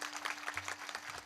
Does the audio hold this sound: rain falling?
no